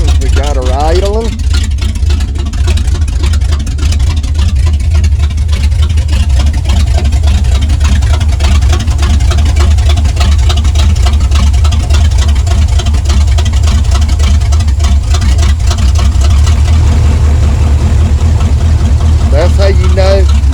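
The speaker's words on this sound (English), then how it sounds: "We got her idling." Truck engine with a carburetor idling, no Turbo 350 transmission fitted yet, running loud and close for a long stretch in a steady low rumble, with someone talking over it throughout.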